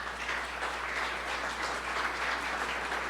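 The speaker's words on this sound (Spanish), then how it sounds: "Dale otro fuerte aplauso a Dios" A church congregation applauds during a sermon, a short, steady spell of many hands clapping over a low constant hum, with no clear start or end.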